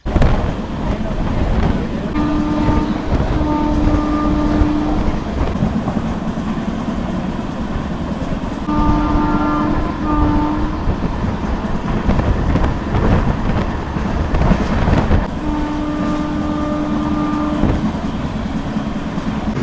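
Riding a train: a loud, constant low rumble of the moving carriage, with a steady mechanical whine that rises and fades at intervals.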